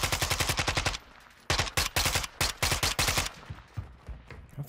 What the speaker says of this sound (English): There's no way you shooting at me from all the way over there.